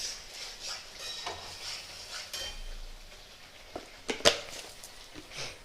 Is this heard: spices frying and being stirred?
yes